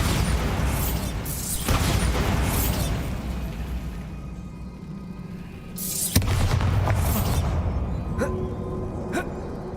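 A Bombarda blasting spell in the video game Hogwarts Legacy goes off with a loud rumbling explosion that rolls on for several seconds, then falls away before a second heavy blast and debris clatter.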